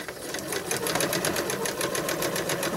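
A sewing machine stitches small fabric snippets, a fast even mechanical chatter of needle strokes running continuously at close range.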